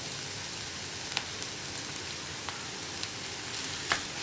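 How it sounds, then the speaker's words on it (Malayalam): Egg and grated coconut for a Kerala egg thoran fry in a pan with a soft, steady sizzle, broken by a few light clicks and scrapes from stirring. "ഇതൊന്നിങ്ങനെ ഇളക്കി കൊടുക്കുക അപ്പോൾ നമ്മുടെ മുട്ടയൊന്ന് ഡ്രൈ ആയി തുടങ്ങുന്നുണ്ട്"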